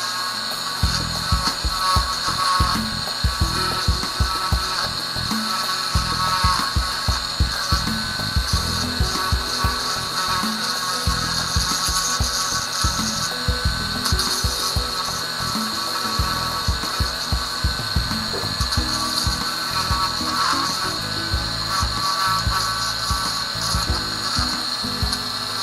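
Wood carving of a shark being sanded by hand to blend in and remove ridges, a steady rhythmic scratching and rasping that continues for the whole stretch, close and without talk.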